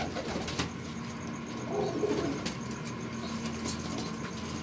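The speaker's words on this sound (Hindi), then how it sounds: "ये सब उड़ने के लिए कबूतर जा रहे हैं जी" Flying pigeons give a soft low coo under a steady background hum, with brief faint chirps nearby and no talk.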